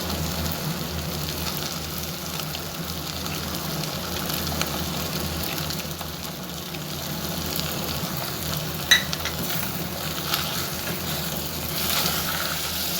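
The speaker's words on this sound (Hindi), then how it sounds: "इसे मज़ीद जिंजर गार्लिक पेस्ट के साथ फ्राई करें" Goat brain frying in a pan with ginger garlic paste, a steady low sizzle and crackle with occasional soft scrapes and one sharp clink, fairly quiet and continuous with no voices.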